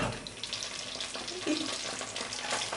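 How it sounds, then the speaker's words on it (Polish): A spoonful of butter sizzles in a hot saucepan, a steady, moderately loud hiss and crackle that continues throughout with no talking. "Cebulę już mam pokrojoną, a tutaj w rondlu mam łyżkę masła."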